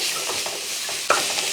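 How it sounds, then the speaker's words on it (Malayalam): Tomatoes frying in a pan for an okra and egg dish, a spoon stirring with soft scraping strokes over a steady close sizzle, one sharper clink near the end. "തക്കാളിയും കൂടി ഇട്ടതിന് ശേഷം ഒന്ന് ഇളക്കി"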